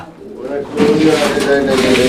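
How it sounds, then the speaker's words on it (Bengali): Pigeons coo at a market stall selling birds in Bangladesh, a low rolling call that repeats under busy crowd noise and nearby chatter. "এইখানে আরো একটা কবুতর আছে সিঙ্গেল"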